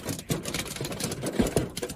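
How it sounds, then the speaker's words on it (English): Dense, noisy clatter of hail pelting the ground during a severe storm in Des Moines, a continuous rattling roar with scattered sharper impacts throughout. "That is the sound of hail."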